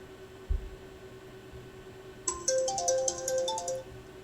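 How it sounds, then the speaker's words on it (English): A phone alarm rings out in a quiet room, a bright repeating electronic melody starting abruptly and running for under two seconds, preceded by a soft thump. "that was my alarm"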